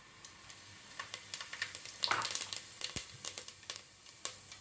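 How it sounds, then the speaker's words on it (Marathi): A spoonful of cumin seeds sizzling in hot oil in a pan on a gas stove, giving a continuous close fizz with rapid crackling pops throughout. "ह्यामध्ये एक चमचा जिरं घालते"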